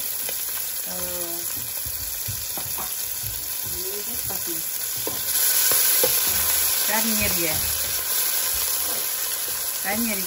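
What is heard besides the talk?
frying peas and corn in oil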